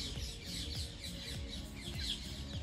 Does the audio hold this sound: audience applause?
no